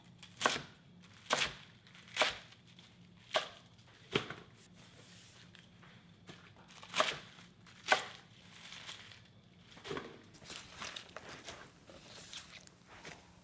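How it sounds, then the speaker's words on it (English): Knife chopping vegetables and fruit into bite-sized pieces for Korean water kimchi (nabak-kimchi), a dozen or so sharp, separate cuts in an uneven rhythm, close and moderately loud with no talking. "So we cut like this kind of bite-sized pieces."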